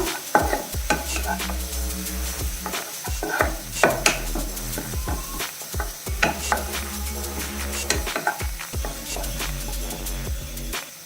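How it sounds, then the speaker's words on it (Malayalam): Onions are stirred and sautéed in a hot pan, a steady sizzle running under repeated close scraping strokes of the spoon, loud and continuous with no talking. "അപ്പോൾ നമുക്ക് ഈ സവാള ഒന്ന് വഴറ്റിയെടുക്കണം"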